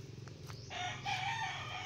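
A bantam chicken calls faintly in the distance: a short, rising crowing or clucking phrase over a low background hum.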